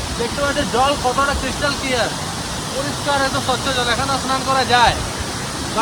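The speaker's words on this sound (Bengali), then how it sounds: "এই হচ্ছে একটা আরেকটা ওয়াটারফল" A waterfall seen on a tour in Silong gives a steady broadband roar, with people's voices talking over the rushing water throughout.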